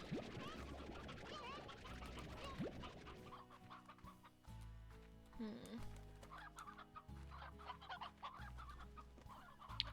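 Chickens cluck repeatedly in the Slime Rancher video game, with busy overlapping clucks and squawks over a steady low game soundtrack, fairly quiet overall.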